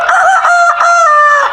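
A person imitates a rooster's dawn crow with the voice, one long drawn-out call with rising and falling pitch, loud and close, with no other sound.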